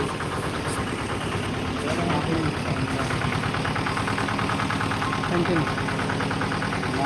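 An engine idles with a steady, even mechanical rumble that does not change, while voices talk over it.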